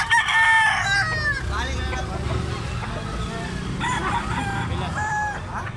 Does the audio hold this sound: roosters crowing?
yes